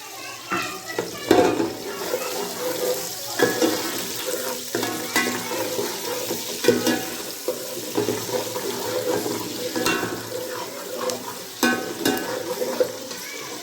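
Onions are dropped into hot ghee and stirred, giving a close, uneven sizzle broken by scraping and clattering pulses of the spoon against the pan, with no talking.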